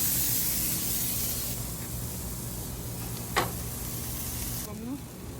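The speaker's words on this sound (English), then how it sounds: "Then add some vegetable oil, pan cooking spray on top of the asparagus." Cooking spray hisses onto asparagus on a campfire grill, a steady close spray over a sizzle that cuts off after about four seconds.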